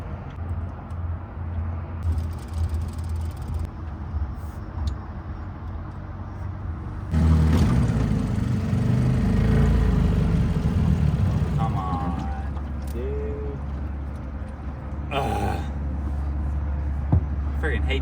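An outboard boat motor runs steadily on the Tennessee River during a fishing trip, a broad low drone that swells louder partway through and continues under faint voices.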